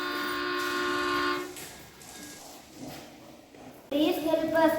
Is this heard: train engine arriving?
yes